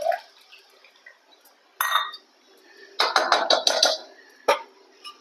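Water poured and swirled in a metal pot of mashed dal, with clinking of a steel spoon or vessel in short bursts and splashy pours, close and fairly loud with quiet gaps between.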